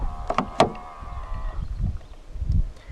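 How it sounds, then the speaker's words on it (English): A 2019 Hyundai Ioniq Hybrid locks when the black button on a front door handle is pressed: a few quick clicks and a brief thunk early on, then low, quiet background rumble. "To lock the car, press the black button on any of the front door handles."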